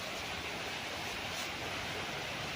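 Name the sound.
rushing river water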